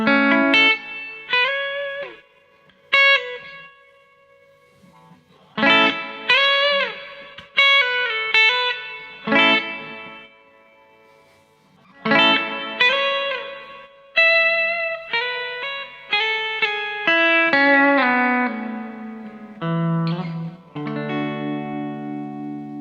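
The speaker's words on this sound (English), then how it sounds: "This is the reverb just coming from the amps" Electric guitar played through an amplifier's reverb, picked chords and single notes ringing out with a washy tail between phrases, clear and up front, no talking.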